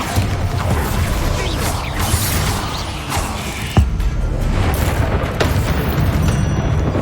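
A Bombarda spell blast in the Hogwarts Legacy video game, part of a loud, dense stretch of booms, crashes and magical impacts with one sharp hit standing out, heavy and continuous throughout.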